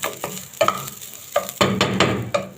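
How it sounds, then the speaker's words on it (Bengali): Rice with ginger paste fries in a pot for pulao while a spoon scrapes and turns it in several distinct strokes over a low sizzle, near and without speech. "চাউলটা একটু বেশিক্ষণ ভেজে নিতে হবে"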